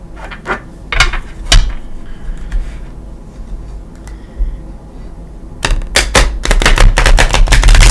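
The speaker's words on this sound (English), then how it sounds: "these cards are so hard to shuffle that way" Tarot cards being shuffled in a stiff new deck that resists bending: irregular close clicks and snaps, then a dense, louder flurry of rapid riffling slaps near the end.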